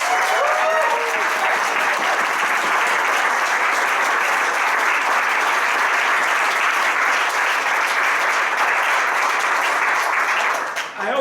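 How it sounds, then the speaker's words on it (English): A crowd at an evening celebration event breaks into sustained, dense applause lasting several seconds at a steady loud level, then tapering at the very end. "Let's all give them a round of applause."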